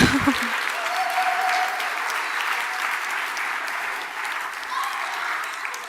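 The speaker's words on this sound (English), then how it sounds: "Let's give her another clap because that's really worth it" A crowd at a St Nicholas Church holiday club celebration breaks into sustained applause right after a brief voice at the start, the many hands clapping in a thick, steady wash that gradually eases.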